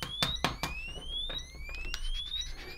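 Sharp, high electronic beeps from a Kewtech Kewstick Duo voltage tester pen chirp in quick bursts, some rising in pitch, close by and fairly faint.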